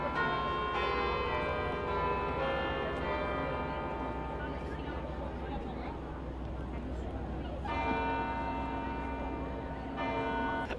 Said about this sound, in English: I was interrupted by the bells of Notre Dame.